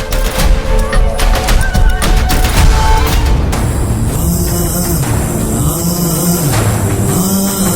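Firecrackers bursting in rapid, crackling volleys, loud and close, with sharp overlapping bangs at first, then giving way to a whistling, warbling tone over continued rumble.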